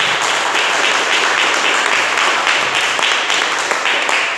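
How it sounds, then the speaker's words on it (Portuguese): Church congregation applauding during a service, dense sustained clapping from many people, loud and even throughout, with no speech over it. "Receba o servo do Senhor com as palmas para Jesus"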